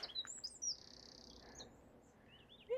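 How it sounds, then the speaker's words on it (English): A small bird chirps on a coastal walk near Edinburgh, giving short bright tweets and a sustained thin whistle, faint and somewhat distant over a soft outdoor background. "Oh, hello, bird."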